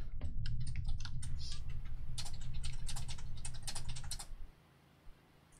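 Fingers typing on a computer keyboard, a fast, close run of clicking keystrokes that goes on for about four seconds and then stops, leaving near silence.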